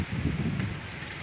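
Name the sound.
strong wind in a tree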